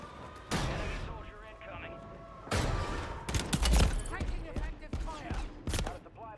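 Bursts of gunfire from the video game Call of Duty Warzone, several loud broadband volleys and sharp cracks in quick irregular succession, with talk over parts of the clip.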